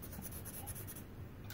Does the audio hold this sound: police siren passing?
no